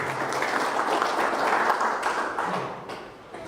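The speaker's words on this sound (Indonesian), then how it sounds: "Aplaus untuk kita semua." An audience applauding loudly and steadily, a dense wash of clapping from many hands that tapers slightly toward the end.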